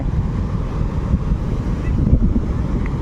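Sea waves surge onto Veraval beach in a steady, loud roar of surf, heavily buffeted by wind rumbling against the microphone.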